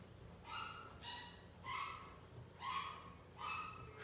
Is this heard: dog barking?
yes